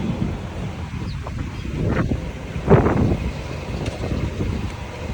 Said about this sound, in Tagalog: hangin pa rin po konti